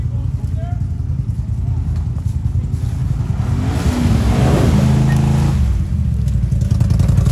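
A lifted Honda 4x4 pushes through a swamp, its engine droning loudly and then revving harder midway, with splashing and clatter as it strains, while voices are faintly heard.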